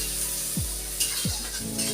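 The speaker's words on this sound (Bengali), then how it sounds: "পেঁয়াজটা ভাজা ভাজা হয়ে গেছে" Chopped onions frying in a pan, a steady broadband sizzle with a couple of brief scraping stirs, close and continuous with no talk.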